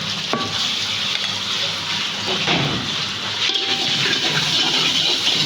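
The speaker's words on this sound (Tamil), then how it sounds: "இது கூட இஞ்சி பொண்ணு பேஸ்ட்டு போட்டுக்கோங்க கொஞ்சமாக ஒரு ஸ்பூன் அளவுக்கு" Ginger garlic paste fries in oil in a pan, a continuous close sizzle and hiss with occasional stirring scrapes, with no talk over it.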